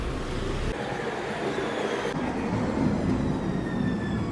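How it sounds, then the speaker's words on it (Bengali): Steady rumble and rattle of a train in motion near Paris, with a faint high whine running through, continuous and fairly close. "বাস থেকে নেমে গেছি এখন ট্রেনে উঠুন"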